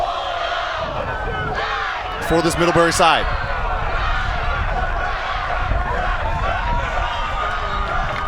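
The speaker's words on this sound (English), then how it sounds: "You see that right now, the fans really cheering" Crowd of fans cheering and shouting at a college ultimate frisbee semifinal between Middlebury and Davenport, a steady roar of voices with a brief louder burst, under a commentator's continuous talk.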